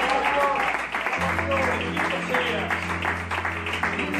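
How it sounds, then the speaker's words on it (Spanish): A church congregation breaks into clapping, its rhythmic applause beneath music and a voice that carries on throughout. "esto merece un aplauso para el Espíritu Santo"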